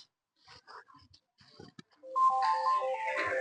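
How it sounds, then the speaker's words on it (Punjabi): After a few soft shuffles and clicks, a mobile phone starts ringing with an incoming call, a clear, loud melodic ringtone that keeps playing on its own. "Bhai the phone"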